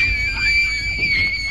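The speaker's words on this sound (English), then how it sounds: "A sudden loud scream sends the girls running in terror." A sudden loud, sustained high-pitched scream in a scary video rings out steadily, close and piercing, over a low background rumble.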